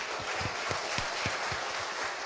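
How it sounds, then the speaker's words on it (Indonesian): An audience at a school orientation launch event gives steady, moderately distant applause, a dense even patter of many hands with a few louder claps standing out, and no talking over it. "tepuk tangan dulu dong"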